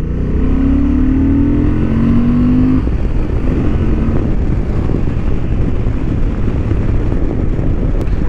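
A 2023 Honda XL750 Transalp motorcycle engine drones steadily at barely 2000 rpm on a racing track, rising slightly in pitch early on, with constant rumble and wind noise throughout.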